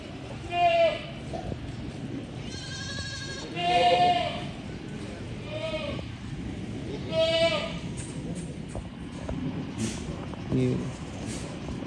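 Goats bleat nearby several times at irregular intervals, roughly every two to three seconds, each call a short wavering cry over low background noise and voices.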